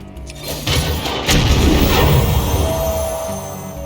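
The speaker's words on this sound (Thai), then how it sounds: "ปืนใหญ่ยิง" A cannon fires in the card game Hearthstone, a loud heavy boom and crashing impact that swells and rumbles on for a few seconds close up, with no talk over it.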